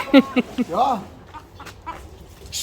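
A hen being held in someone's hands gives a quick series of close, loud clucks followed by a drawn-out squawk, then quieter scattered clucks and farmyard noise.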